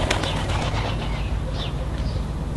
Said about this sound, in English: And obviously the birds are wanting a shower as well.